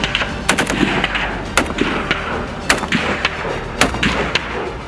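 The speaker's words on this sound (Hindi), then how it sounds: "on time, on target, SMG 3 round," Submachine gun fire during military training on a high-altitude glacier, heard as repeated sharp, loud reports in short clusters spread across the clip, with echoing decay between shots.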